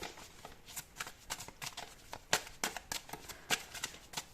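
Tarot cards being shuffled by hand, a quick irregular run of soft riffling flicks and slaps close up, with no voices.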